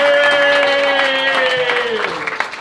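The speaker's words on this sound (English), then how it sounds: "Start clapping and cheering for Daz Diamond!" Comedy club audience clapping and cheering for comedian Daz Diamond, a loud, dense burst of applause with a whooping, sliding cheer on top, gradually thinning toward the end.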